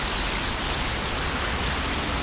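Rain pours down during a fishing outing, a dense, even hiss of drops close by with no break, heavy and steady throughout.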